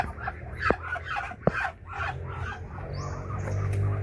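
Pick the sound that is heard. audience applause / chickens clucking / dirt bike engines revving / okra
chickens clucking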